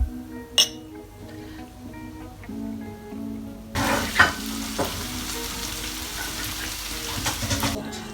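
Prosecco fizzes and hisses as it is poured into glasses, a steady bubbling rush after a faint clink of glass, with a few more soft clinks toward the end.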